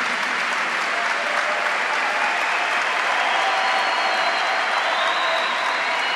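Church congregation applauding and cheering during a Catholic homily, a steady, dense wash of clapping with shouts mixed in, sustained at full strength for several seconds.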